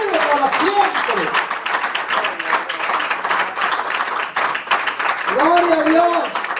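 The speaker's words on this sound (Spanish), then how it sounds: "Más fuerte ese aplauso al que vive para siempre." A church congregation claps in a sustained, lively round of applause while a voice calls out loudly over it, rising again strongly toward the end.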